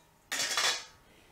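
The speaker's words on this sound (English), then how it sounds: "I'm going to transfer it to a pot" A metal cooking pot clatters once as it is handled while sauerkraut is moved into it, a single bright clanking burst close by that rings briefly and fades, with no talking.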